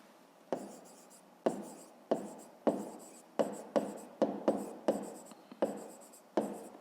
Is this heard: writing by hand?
yes